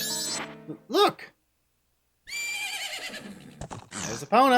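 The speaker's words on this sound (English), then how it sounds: "There's Epona. Isn't that your horse?" Epona, a horse in a video game, neighs in short, rising whinnies separated by a pause of silence, with other game sounds and a voice-like tone in between.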